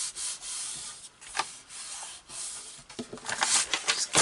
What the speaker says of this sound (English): Just give that another little burnish on that side.